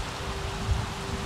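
Steady rain patters and splashes in The Sims 3, a soft continuous wash of droplets with a faint low rumble beneath, heard alone.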